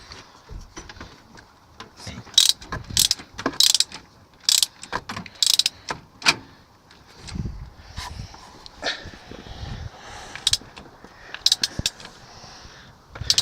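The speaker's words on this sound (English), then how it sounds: "And then go ahead and get your 13mm socket on it." A ratchet wrench with a 13mm socket tightens the short shifter bolt on an Audi TT, giving bursts of quick mechanical clicks and rattles with brief pauses between strokes, close up and fairly loud.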